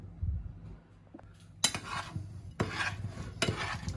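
Tomatoes being mixed with olive oil, basil, salt, pepper and garlic: a few soft scraping, stirring strokes of a utensil against a dish, close and fairly quiet, with short pauses between.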